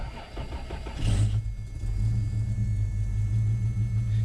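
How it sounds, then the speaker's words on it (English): A Toyota 4Runner with a 3.0 3VZE engine cranks briefly and starts, then settles into a steady, close, low rumbling idle. "All right, let's crank her up."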